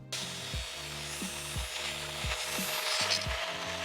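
Hand saw cutting through a metal pipe for a turbo exhaust manifold on a BMW E36 with the M42 engine, giving steady rhythmic back-and-forth rasping strokes about twice a second, close and alone with no talk.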